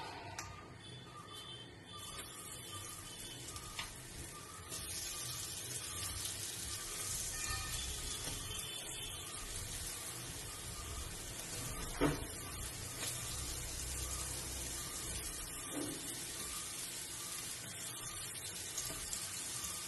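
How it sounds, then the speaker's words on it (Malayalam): Shrimp sizzle steadily in hot oil in a pan, a constant broad hiss with occasional crackles and a soft clink near the middle. "അപ്പോൾ പാൻ ചൂടായിട്ട് അതിൽ കുറച്ച് ഓയിൽ ഒഴിച്ച് കൊടുത്തിട്ടുണ്ട്. അതിലേക്ക് നമുക്ക് ചെമ്മീൻ അങ്ങോട്ട് പറ്റി വെച്ച് കൊടുക്കാം."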